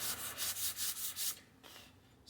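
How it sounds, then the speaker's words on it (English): Bondo body filler on a truck tailgate is sanded by hand in about six quick, even back-and-forth strokes, close and soft, with a couple of fainter rubs after a short pause. "sanding away"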